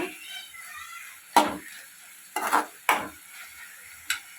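A spoon stirs turmeric into banana flower curry in a pan, a few separate scraping clatters spaced about a second apart over a faint low sizzle, close and otherwise quiet.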